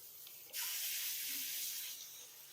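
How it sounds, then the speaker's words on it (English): Tap water bursts on at a kitchen sink to rinse rice, a steady close hissing stream running for about a second and a half before easing slightly. "I need to rinse my rice."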